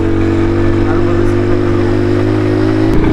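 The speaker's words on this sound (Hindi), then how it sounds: "इतने मुश्किल रास्ते पर हम बाइक पे जा रहे हैं" A weak motorbike carrying three riders labours up a very steep road near Murree, its mid-pitched engine droning steadily and loudly throughout, with a slight shift near the end.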